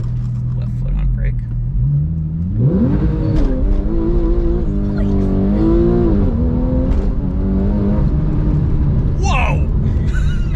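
A Porsche 911 (991S) launches under launch control, its engine revving up hard and loud in rising sweeps, with voices talking over the roar.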